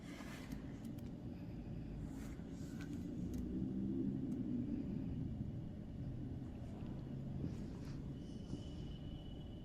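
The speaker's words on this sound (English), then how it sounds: "there's some noise of traffic in the background" Faint, steady low rumble of road traffic outside old Gloucester Prison, distant and continuous with no voices nearby.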